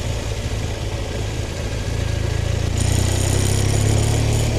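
Motorcycle engine idling steadily and close by, after a seat swap with a Bultex foam cushion, its low throbbing rumble swelling a little louder toward the end with no talk over it.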